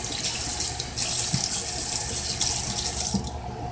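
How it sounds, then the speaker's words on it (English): Tap water runs steadily into a sink while hands and a knife used on ghost peppers are scrubbed underneath, a close, loud splashing rush with uneven spatter. "washing hands, washing the left hand, washing that knife heavily"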